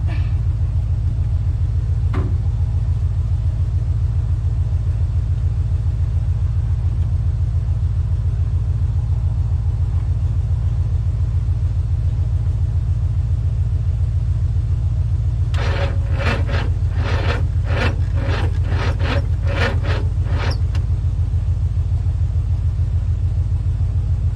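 Engine of a 1962 Chevrolet C10 truck with timing set too retarded, running as a steady loud low rumble, with a burst of rapid sharp cranking clicks and pops partway through.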